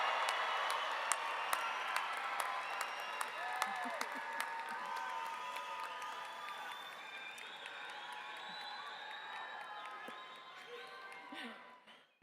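A stadium audience at a 2024 college commencement ceremony cheers, claps and whoops for graduates, a dense, sustained roar of crowd noise with scattered whistles that holds steady before fading near the end.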